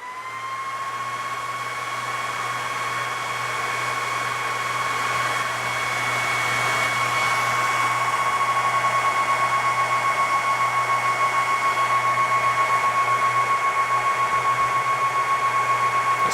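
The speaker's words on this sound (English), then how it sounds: "we're getting monster amount of airflow through the cabinet now" A loud fan forces a strong, steady rush of air through a cabinet, with a constant whooshing roar and a faint tonal whine that swells slightly midway and keeps running without any voices.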